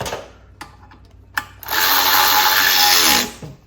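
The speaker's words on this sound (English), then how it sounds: "This power ratchet I have here doesn't have a whole lot of torque, but it's good for spinning things off really quick" Power ratchet on a Honda CT70 Trail 70 mini bike snugging bolts: a couple of faint clicks, then one loud steady whirring burst of about a second and a half that cuts off abruptly, with no talking.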